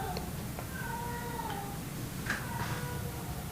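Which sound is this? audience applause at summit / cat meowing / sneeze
cat meowing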